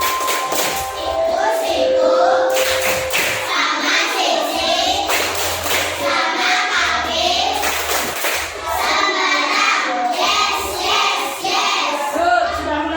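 A group of children and a teacher clap out a rhythmic 'triangle' clapping pattern in a classroom, claps and taps close and fairly loud, with voices talking and calling along throughout.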